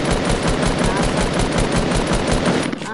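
Rapid gunfire from a video game's weapons, dense and continuous automatic bursts filling the whole stretch at steady loudness with a rattling rhythm.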